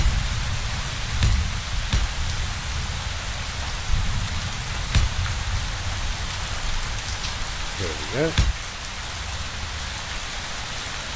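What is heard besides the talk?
rain in a video game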